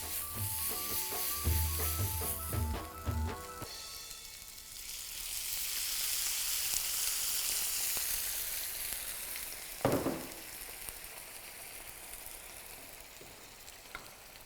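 Potatoes for a dosa filling are crushed and fried in a pan, giving a soft sizzle and a few clattering scrapes, with music fading out at the start.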